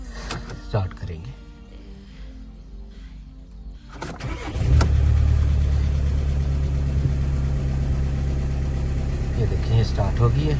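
A 2013 VW Passat with a 2-litre diesel engine cranks and fires up, then settles into a steady, loud, close idle that runs to the end, with someone talking over the first part.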